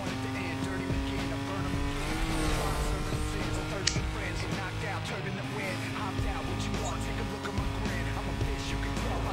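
Car engines roaring during a race in the video game Need for Speed Most Wanted, a loud continuous revving drone with shifting pitch throughout.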